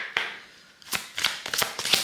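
Oracle cards are shuffled up close: a quick snap, a brief pause, then a run of crisp riffling flicks and slaps, moderately loud with no voices.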